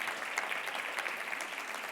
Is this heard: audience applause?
yes